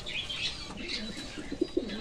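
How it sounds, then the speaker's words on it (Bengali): A male pigeon in a loft gives soft, low coos, two short muffled pulses near the end over a faint background of chirps and rustling, close by and quiet. "এই হচ্ছে মেল পায়রাটি"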